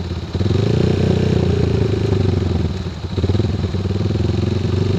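A bored-up Kawasaki KLX 150 trail bike engine holds a steady loud throttle during carburettor tuning, its rough, throbbing drone continuous and close throughout with slight dips.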